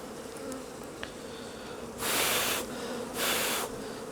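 Honeybees buzz at an open hive, a steady low hum with two louder, broadband surges as the colony swells close by.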